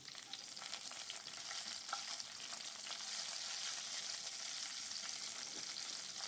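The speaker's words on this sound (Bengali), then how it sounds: "আমি একটা টমেটো চার টুকরো করে কেটে রেখেছিলাম ওটা দিয়ে দিলাম" Tomato quartered into four pieces dropped into hot oil with spice tempering for a Bengali rui fish curry, giving a steady, quiet, even sizzle and hiss that holds without a break.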